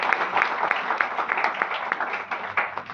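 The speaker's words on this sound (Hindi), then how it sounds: "मैं चाहूंगा सर के लिए एक जोरदार ताली मिलनी चाहिए।" A crowd applauding steadily for a few seconds, many hands clapping at once in a sustained, even burst.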